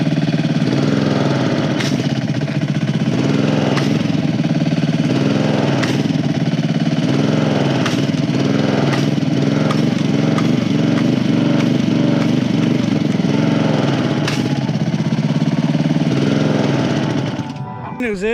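A pressure washer's small engine runs with a steady, loud drone and slight surges, then cuts out and dies near the end.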